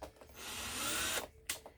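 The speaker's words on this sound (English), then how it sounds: "Because it's not a very big drill." A small power drill bores a hole through the bottom of a plastic cup, one loud close whirring burst about a second long followed by a short second spin.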